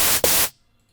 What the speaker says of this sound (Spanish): vamos a ponerle algo de ruido blanco